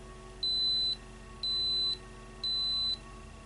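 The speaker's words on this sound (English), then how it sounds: "it beeps whenever it's like turned off, so it'll like make the sound." Three evenly spaced electronic beeps from a teeth whitening device timer, each about half a second long, high-pitched and clear over a faint background hum.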